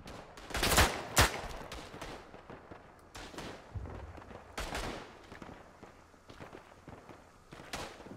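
Gunfire in the World War I shooter game Tannenberg, a few sharp rifle cracks close by early on, then scattered distant shots and battlefield noise at low level, with no talk.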